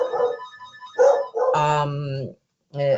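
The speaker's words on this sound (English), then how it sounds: "I'm sorry, this is my dog." A dog barks several times at home in short loud bursts, with pauses between, while a person speaks during an online conference talk.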